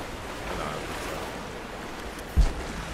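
Rolling, surf-like water moves continuously in the video game Rise of the Tomb Raider, a broad steady wash with a single brief thump near the end.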